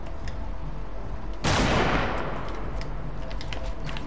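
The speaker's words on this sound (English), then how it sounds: "I'm just shooting out bushes." Fortnite gunfire tearing through bushes starts with a sudden loud burst of shots that quickly fades into a dense noisy tail, with steady game background sound before and after it.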